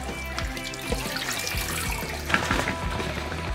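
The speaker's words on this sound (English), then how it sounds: "I just do it with running water." Tap water runs steadily into a sink while color film is washed during home developing, a continuous close splashing rush with small irregular spatters and no talk.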